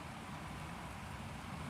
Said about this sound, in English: 5 minutes later, and it is raining